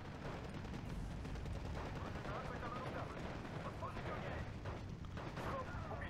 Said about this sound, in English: this is just an obnoxious level of mortars